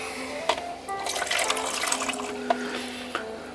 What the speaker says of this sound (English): I'm going to pour some fresh water here in a